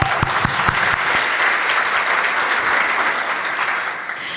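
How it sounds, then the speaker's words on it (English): Conference audience at a cystic fibrosis foundation event breaks into loud, sustained applause for the presenters, a few distinct claps at the start swelling into a dense, even wash that tapers slightly at the end. "So let's give our cheer to Eric and Jason."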